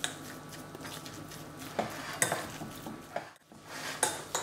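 A spoon scrapes and clinks through mushroom duxelles with parsley and pepper in a pan, a few close metallic knocks and stirring scrapes over a soft background hiss.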